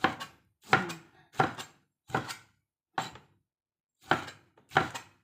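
A knife chops vegetables and tomatoes on a cutting board for an Ilocano dish of white string beans, seven separate close, crisp strokes with short pauses between them.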